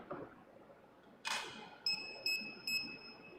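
Single short beep from a Steelmate child seat alert, followed by a few sharp, tonal electronic chirps, clear and close in a quiet room.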